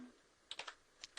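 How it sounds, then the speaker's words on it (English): Keys on a computer keyboard clack while a network device command is being typed, a quiet close burst of three quick taps followed by two more spaced keystrokes. "I'm going to type in controller"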